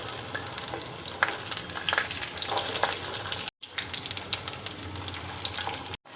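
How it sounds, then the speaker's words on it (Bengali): Stuffed potatoes sizzle and crackle in hot oil over medium flame with a steady frying hiss, broken by a couple of short silences. "এখন এটাকে উল্টে একটু ভেজে নেব আর ভাজার সময় আঁচটাকে মিডিয়াম ফ্লেমে রাখব"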